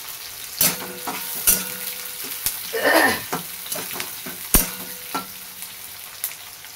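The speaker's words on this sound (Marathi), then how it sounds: "हिरवी मिरची पण टाकूया," Green chillies go into a hot pan of onions, with a burst of crackling sizzle after a few sharp clanks. Spoon taps and stirring scrapes continue over a steady frying hiss. Nobody speaks.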